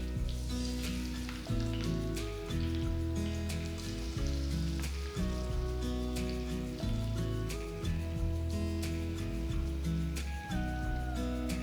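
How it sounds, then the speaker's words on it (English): Prawns sizzle and fry on a hot tawa with curry leaves, a steady crackle running under prominent background music. "Gently start dropping all the prawns."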